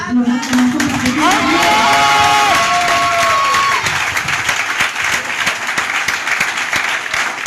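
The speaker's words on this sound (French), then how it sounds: "je voudrais que tu puisses donner l'acclamation" A congregation in a church hall breaks into loud applause with cheering and whoops, a raised voice ringing out early over the dense, continuous clapping that carries on throughout.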